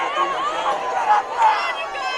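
Foothill Trojans fans at a high school football game against the Miramonte Lions make a steady, busy crowd noise, a mix of chatter and raised voices with a few louder cheers swelling at moments.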